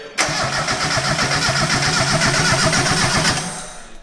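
A turbo kart engine cranks and catches, chugging loudly with a rapid, rough rhythmic pulse that holds steady for several seconds before easing off.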